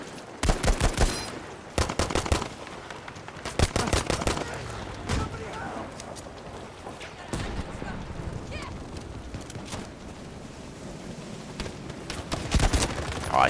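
A full-server Battlefield V match: loud, rapid bursts of automatic gunfire and booming explosions, with trees being blown apart, in repeated volleys that thin out midway and pick up again near the end.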